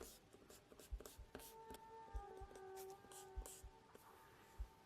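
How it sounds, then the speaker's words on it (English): An eraser lightly rubbing out pencil sketch guidelines on paper, faint scratchy strokes in a steady rhythm with soft taps, heard alone and close. "we're going to go back and lightly erase our guidelines"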